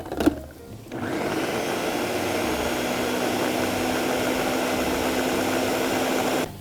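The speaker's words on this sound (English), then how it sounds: "we're going to pop it over here on the blender. We're going to give it a spin." After a brief clunk, a blender blending butter beans whirs on and runs continuously at a loud, steady pitch for several seconds.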